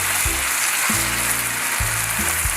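Pad Thai with sauce being gently stirred in a hot frying pan at home, giving a steady close-up sizzle with a low tonal hum running underneath throughout.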